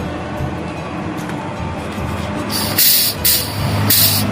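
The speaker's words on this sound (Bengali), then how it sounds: "হাওয়ার প্রেসার দিয়ে যাচ্ছে" An air-pressure grease gun greasing a truck's pins gives sharp, loud bursts of hissing air in the second half, two or three in close succession, over a steady low workshop rumble.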